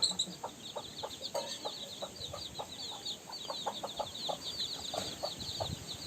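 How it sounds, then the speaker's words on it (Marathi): Chicken chicks in a village yard give repeated high, thin peeps, with scattered clucks from fowl nearby over a faint background. "आणि इकडे बघा कोंबड्याची पिल्लू बघा"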